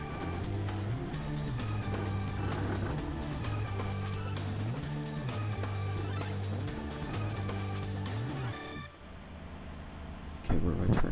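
A truck engine drones steadily in Euro Truck Simulator 2, with the pitch rising and falling as the gears shift during driving, accompanied by game music and tones, then cutting out near the end.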